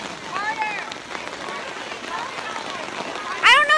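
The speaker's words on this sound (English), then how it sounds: "I don't know if you can see the rain, but it's going down really, really hard" Heavy rain pours down at an outdoor swim meet, a steady broadband hiss running the whole time beneath nearby voices, with a louder burst of chatter near the end.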